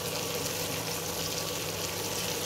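Onion, garlic, ginger and dried chilli frying in a pan give a steady, dense sizzle that holds evenly throughout, fairly close and with no voices over it.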